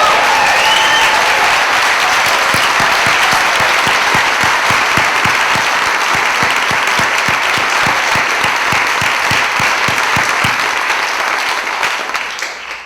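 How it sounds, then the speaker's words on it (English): A film festival opening night audience gives a long, loud round of applause, dense clapping that holds steady and then thins out near the end. "can we all offer our filmmakers a rousing round of applause?"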